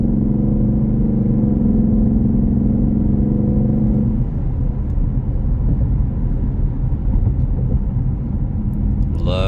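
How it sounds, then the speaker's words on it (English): A 2023 Ford Mustang GT Premium with a Roush engine and track pack runs with a loud, steady low rumble that starts as an even idle-like drone and turns rougher and more uneven partway through, with no talking over it. "here's the motor running"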